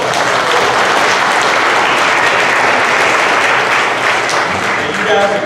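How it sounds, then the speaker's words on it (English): A crowd at a church Easter festival breaks into loud, dense hand clapping that holds steady and continuous for several seconds. "Y'all give him a hand clap."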